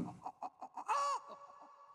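Close chickens cluck in a quick series of short calls, followed by one longer, higher squawk and a few softer clucks.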